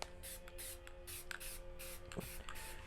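Continuous hissing bursts of a Rust-Oleum spray paint can onto foam, several sprays in quick succession with short pauses, close and fairly loud.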